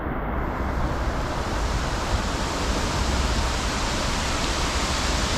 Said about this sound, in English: Right up there, there's waterfalls ripping out of those pipes.